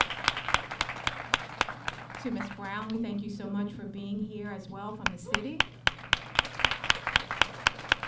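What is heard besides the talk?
audience clapping at graduation event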